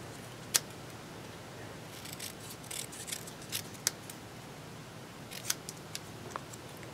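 Scissors snipping paper for a journal collage, several sharp close clicks and cuts spaced out among soft rustling, with no voices.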